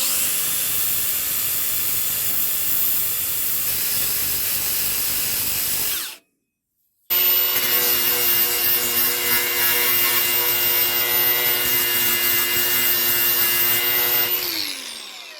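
A power grinder grinds down metal parts of a Scott bicycle suspension fork, a loud, steady abrasive whine that stops for about a second, then resumes and winds down at the end.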